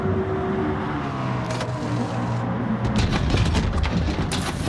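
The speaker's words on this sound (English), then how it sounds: "I love the sound of the M4 when it comes out of the pits like that" A BMW M4 engine in Gran Turismo Sport as the car pulls out of the pits at the Red Bull Ring: a loud, steady, droning note with rising harmonics, then sharper bursts as it picks up pace.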